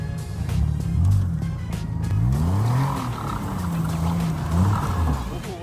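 A VW GTI spins its wheels in deep blizzard snow, the engine revving loudly in rising and falling surges close by, with tires whining against the snow; voices occasionally speak nearby.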